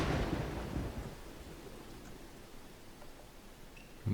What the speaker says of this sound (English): The storms always look magnificent in this game.